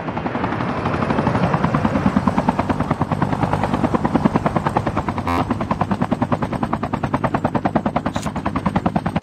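A helicopter in the COD Mobile video game arrives for a flight, its rotor throbbing in a fast, steady, loud chop with a whine above it, broken by one sharp crack partway through and no talking.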